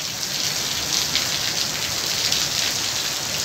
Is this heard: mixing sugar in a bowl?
no